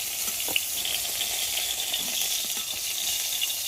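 Slices of pointed gourd (potol) fry in hot oil in a pan, making a soft, continuous sizzle with faint crackles and one small clink, and no voices.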